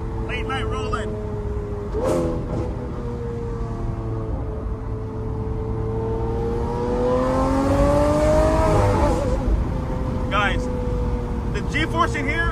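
Engine of a Lamborghini SV-style sports car pulling hard while driving late at night, a steady droning note rising and falling with gear changes, heard from inside the cabin with people talking over it.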